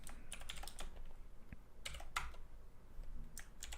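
Quiet, steady keyboard typing as Java code is entered for a Minecraft Spigot plugin, with irregular clusters of soft key clicks close by and a few sharper taps standing out, no voices.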